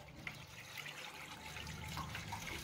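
A large amount of water poured onto a kitchen floor and running off into a gutter, giving a continuous soft rushing trickle that is fairly faint and steady throughout.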